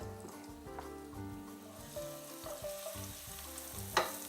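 Garlic bits frying in a pan of garlic-flavored olive oil give a steady, soft sizzle with light scraping and a brief louder clink near the end, without voices.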